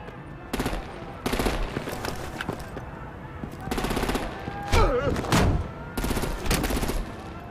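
Heavy automatic gunfire and artillery in the Batman Telltale game, repeated loud bursts of machine-gun fire spaced a second or so apart, with faint speech in between.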